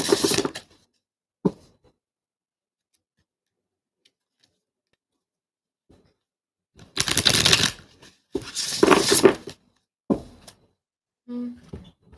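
Tarot cards shuffled by hand in two dense papery bursts of riffling, each lasting a couple of seconds, with a few short taps and soft clicks around them in an otherwise quiet room.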